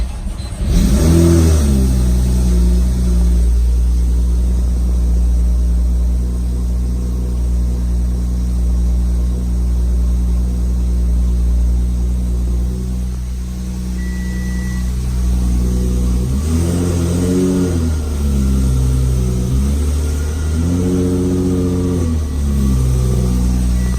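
A twincharged 2013 Audi S5 engine fires up for its first start, settling into a loud steady idle, then revving in several rising and falling bursts near the end.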